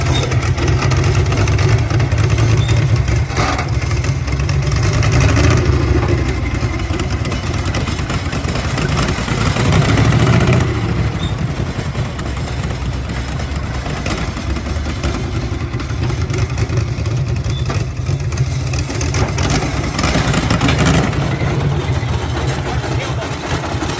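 A slow-running old engine idles at about 60 RPM at a tractor pulling event, giving a steady low rumble with soft periodic thumps, continuous and fairly close throughout.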